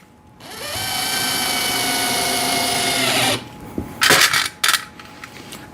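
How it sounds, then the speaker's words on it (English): A power drill driving screws into a rotating shoe rack whines continuously for about three seconds, close and loud, then stops, followed by a few metallic clinks and clatters. "make sure that you don't torque them too much"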